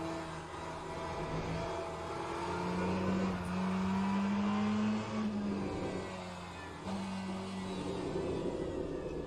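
A race car circles the track in Le Mans Ultimate, its engine note droning steadily and rising and falling in pitch with gear changes and throttle, moderately loud and continuous with no one speaking.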